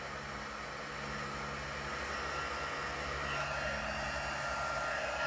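A handheld heat tool melting embossing powder blows a loud, steady, close whirring rush of air that swells slightly and runs continuously without pause.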